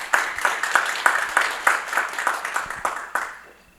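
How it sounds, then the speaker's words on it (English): Scattered applause for a speaker at a genocide victims commemoration event, a steady run of sharp claps at moderate volume that thins out and fades near the end. "So if you guys can give her a round of applause"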